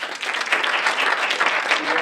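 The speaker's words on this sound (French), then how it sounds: "Merci Alice, on peut l'applaudir." An audience at a press conference for a science-themed film club applauds Alice Le Breton with steady, dense, fairly close clapping that holds evenly throughout.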